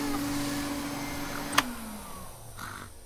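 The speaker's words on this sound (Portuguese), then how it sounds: "É só um aspirador de pó." Vacuum cleaner running at night in a Peppa Pig cartoon, a steady motor hum that runs throughout, then winds down in pitch after a sharp click midway.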